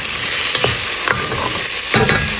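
Scallion and pimento berries sauté in a pan with a close, steady sizzle, punctuated by several scraping stirs of a utensil, no talk.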